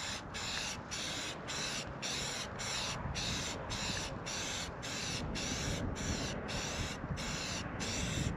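An aerosol can sprays a light coat of paint onto an RV fridge cover in short, evenly spaced hissing bursts, about a dozen in a regular rhythm, heard close over a constant background rumble.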